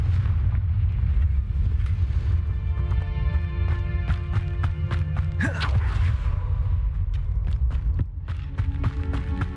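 A Confringo fire-blast spell explodes in Hogwarts Legacy with a heavy, booming rumble and crackling bursts layered over continuous low game music and combat noise.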